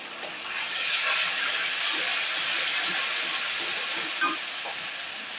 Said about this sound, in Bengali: পেঁয়াজটা ভাজা হয়ে গেলে এর মধ্যে আমি মশলাটা দিয়ে দেব।